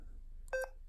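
A Yaesu FT3DR handheld radio emits one short, clear keypad beep during manual repeater entry, alone against faint low background noise.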